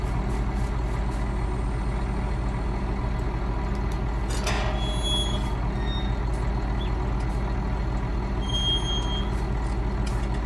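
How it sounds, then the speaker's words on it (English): Heavy truck engine idling steadily in a driving game, a constant low rumble with occasional reversing beeps and a short air-brake hiss. "Do you like the sound of the engine?"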